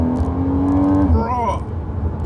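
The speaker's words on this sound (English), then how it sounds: "Just you hear motor, the car's just going." A Porsche 981 Boxster's engine pulling hard on a canyon road, a strong rising drone that shifts pitch mid-pull, heard from inside the car with a voice talking over it.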